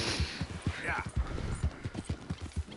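A horse's hooves clip-clop in a video game as a steady, regular beat of soft thuds, fairly quiet, with a brief whinny-like sound near the start.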